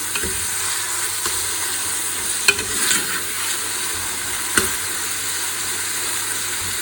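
Tomatoes fry lightly in hot oil with a constant, moderately loud sizzle and hiss. A couple of brief clinks from a stirring utensil stand out, and no voices are heard.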